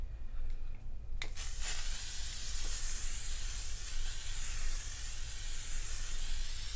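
A short click followed by a sustained, close hiss of makeup setting spray sprayed onto a face, continuing steadily for several seconds.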